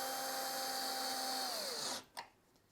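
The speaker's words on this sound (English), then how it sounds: "because you're drilling into plastic" A power drill drives screws into the plastic soap drawer compartment of a Samsung washing machine. The motor gives a steady whine, then winds down with a falling pitch and stops, followed by a single click.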